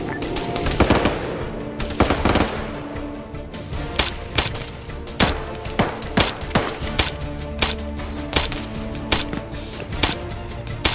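Rapid machine-gun bursts in a military video game, loud and close, a dense stream of sharp shots repeating in short runs over a busy battlefield bed.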